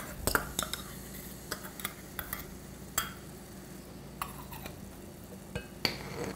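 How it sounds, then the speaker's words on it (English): Korean fried chicken sauce with hot pepper paste and ketchup stirred in a pan, with soft sparse scrapes and clinks of a utensil against the pan over a low steady background. "And let's all mix together and bring to boil."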